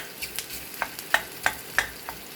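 Onions and ginger paste frying in a pan while being stirred, a faint steady sizzle broken by about six sharp spoon scrapes and clicks at a slow, regular pace.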